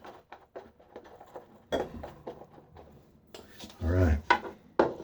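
Shaving soap lather is stirred in a bowl with a little added water, giving irregular scraping, tapping and squelching clicks, close and fairly loud, with a brief heavier swirl partway through.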